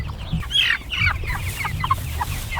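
A flock of Cornish cross meat chickens in a pasture tractor clucking and murmuring close by, soft overlapping calls over a low outdoor rumble.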